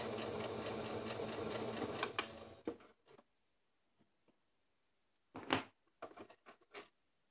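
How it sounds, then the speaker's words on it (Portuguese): A sewing machine stitches along the edges of a small fabric bow, a quiet rapid buzzing run for a couple of seconds, then short separate bursts of stitching with pauses. "E agora eu vou passar 2 costurinhas aqui rente às laterais para poder dar um acabamento no lacinho."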